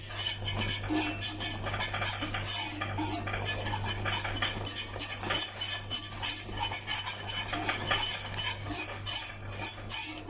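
Metal spoon scraping and stirring around the sides of a pot of cooking gram flour and sugar for Mysore pak, in fast, repeated rasping strokes over a low steady hum, close and continuous.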